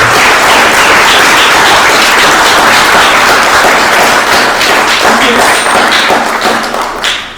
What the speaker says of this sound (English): please join me with the well-deserved round of applause for Mike